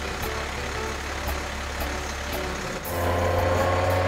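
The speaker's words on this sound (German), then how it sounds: "Der Traktor sägt, schneidet und zermahlt alles, was unter seine Riesenmesser kommt." A cartoon tractor mulcher runs with a low, steady diesel-like idle that steps up louder and heavier near the end, accompanied by faint periodic clicks.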